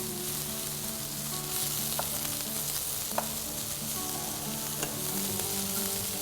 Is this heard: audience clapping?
no